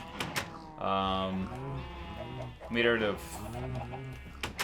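Chickens cluck in a block-building video game, a few short bursts of game clucking rising over steady background sound in the middle of the clip, with no talk in the clip itself.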